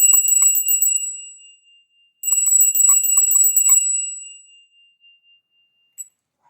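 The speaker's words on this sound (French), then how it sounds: "Elle est où ma petite cloche?" A small hand bell rung in two bursts of rapid tinkling, each ringing out with bright sustained tones and fading, followed by one faint single ding near the end; no talking.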